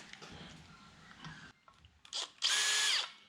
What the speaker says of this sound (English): Just quickly drill some holes for this.